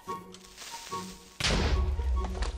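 A Minecraft creeper exploding after being poked: a few soft thumps and then a sudden loud explosive burst that rumbles on to the end, with a voice speaking.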